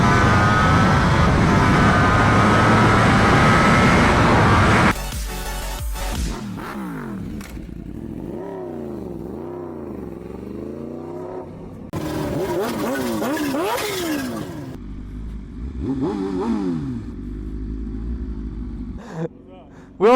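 A 2025 Ducati Panigale V4 superbike ridden uphill: steady loud engine roar and wind, then rising and falling revs through gear changes, with voices talking over the engine.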